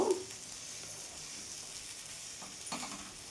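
Soft, steady sizzle of an egg and pointed gourd fry in a pan, with a few faint stirring scrapes near the end; quiet and close, with no talking.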